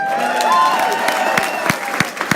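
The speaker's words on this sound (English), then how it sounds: "Please give yourselves a round of applause." Audience applause at a campaign event for a candidate for Governor, a dense burst of clapping close by with a few sharp individual claps standing out as it tapers, no voices over it.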